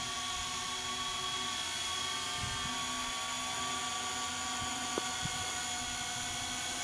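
A Syma X8C quadcopter drone hovers with a steady, high-pitched multi-rotor whine and buzz, sustained and fairly close, with a couple of faint knocks partway through.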